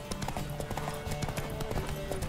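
Horse hooves gallop in a steady rapid clip-clop during a race in The Witcher 3 video game, fairly loud and continuous over a sustained musical drone.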